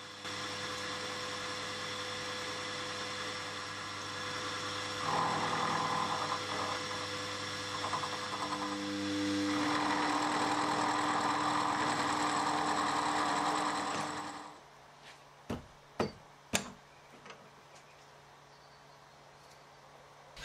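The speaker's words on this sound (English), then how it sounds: "I move back to the mill and work in by sight to the scribe lines using an end mill" A milling machine cuts the ends of brake shoes with an end mill, giving a steady motor hum and cutting whine that rises for a while, then stops, followed by a few sharp metallic clicks and knocks.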